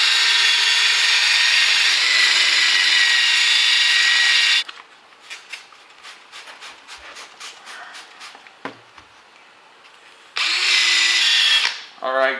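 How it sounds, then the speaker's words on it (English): A power drill polishes the plastic headlight of an Acura TSX, a loud high whine running for several seconds, then a quieter stretch of clicks and handling before the drill spins up again and winds down. "You'll see it here as I'm moving the drill back and forth."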